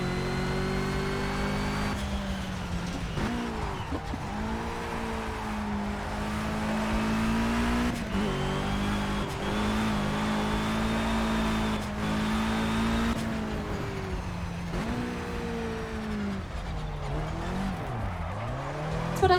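Rally car in a racing video game skidding around a bend on the handbrake at about 30 mph, engine revving and dropping in repeated swells with tire squeal, loud and continuous with no talking.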